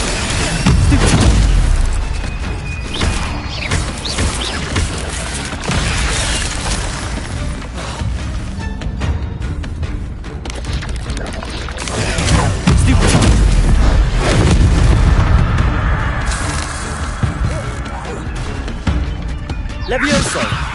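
Stupefy spell impacts in Hogwarts Legacy land as repeated booming bursts with crashes and pops in a dense, loud magical fight, while voices shout incantations throughout.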